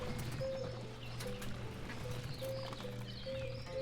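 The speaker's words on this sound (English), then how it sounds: "Dude with the horse and wagon" Horse-drawn wagon in the farming sim game Ostriv, with steady hoof clip-clop repeating under looping game music and occasional bird chirps, no talking.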